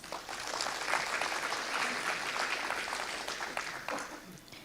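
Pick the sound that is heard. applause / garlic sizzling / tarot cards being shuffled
applause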